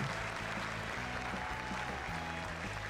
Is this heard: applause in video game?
yes